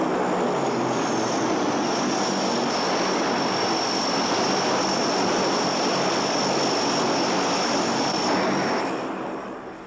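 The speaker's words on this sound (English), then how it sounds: "Both C-141 Starlifter and C-130 Hercules transports were used in this phase" A steady, loud roar of large transport aircraft, C-141 Starlifter and C-130 Hercules, droning continuously and close with a high engine whine above the broadband rumble, easing off only at the very end.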